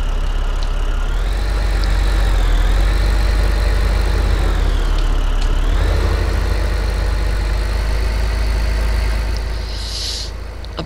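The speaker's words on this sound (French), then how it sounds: "Je vais ranger le tracteur." A tractor engine in the farming game Farming Simulator 15, a steady loud droning idle with a whirring tone that dips and rises slightly before fading a little near the end.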